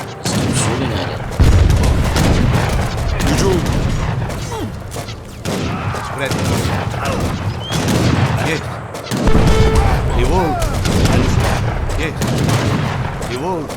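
Dense, loud volleys of musket and cannon fire from an Age of Empires III battle, rattling on almost without a break, with booms and crashes mixed in.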